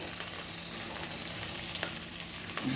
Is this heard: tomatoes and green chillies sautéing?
yes